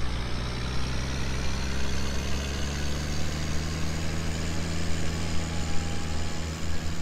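A Case Puma tractor idling in the farming game Landwirtschafts-Simulator 19, a steady low diesel rumble with constant droning hum, loud and unbroken, with no talking.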